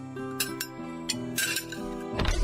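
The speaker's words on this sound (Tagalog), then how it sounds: "maglagay na tayo ng mga plato at kubyertos dito sa lamesa." Plates and cutlery are set on a table, a string of ringing clinks and chinks of dishes and utensils that grows busier toward the end, with no talking.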